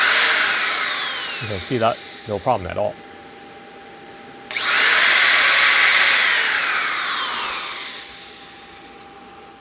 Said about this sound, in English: So let's start the drill.